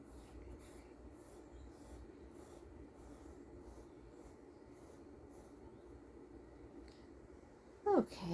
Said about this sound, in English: we're going to draw a line for our table line